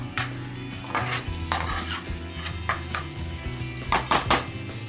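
Garlic being stirred in olive oil in a pan: a metal utensil clinks and scrapes against the pan in irregular strokes, close and clear, over a faint low sizzle.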